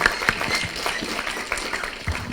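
A short burst of scattered clapping from a small crowd at an outdoor meeting at Ngong Racecourse, Kenya, moderately loud and steady, with no voices standing out.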